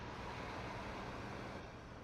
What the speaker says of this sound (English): Just the traffic outside.